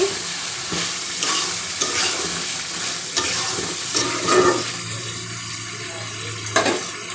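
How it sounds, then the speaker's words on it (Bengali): Chicken skin, gizzard and liver curry with potatoes fries in a pan and is stirred, making a loud close sizzle with repeated spatula scrapes and clacks, heard without talk. "আর একটু কষিয়ে নেব। দেখুন, আবার একটু আমি নেড়ে দেব।"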